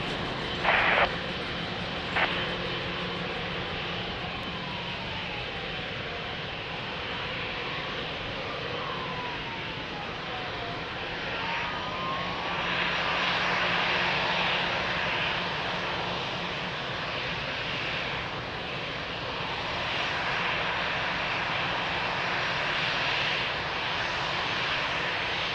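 An Angola Boeing 777 at Lisbon Airport produces a steady, sustained jet engine roar that swells gradually and holds at a high level throughout, with no voices.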